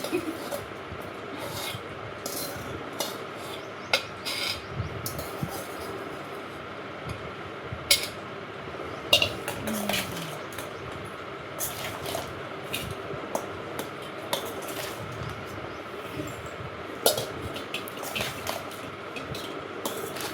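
Mango pulihora rice stirred in a pot with a spoon, giving soft intermittent scrapes and light clinks against the metal over a quiet background, with no talking.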